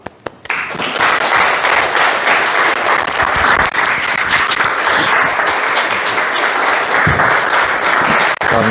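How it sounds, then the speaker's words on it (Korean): Loud congregation applause in a Korean church service welcoming a missionary to the pulpit during an Advent Sunday, starting abruptly after a brief quiet moment and continuing as a thick, steady roar of clapping. "우리 선교사님 나오실 때 우리 큰 박수로 맞이하겠습니다"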